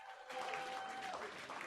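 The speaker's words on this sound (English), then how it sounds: "Double applause." Applause sound effect played on a stream, a short quiet burst of crowd clapping that starts abruptly and runs under a faint steady tone, lasting under two seconds.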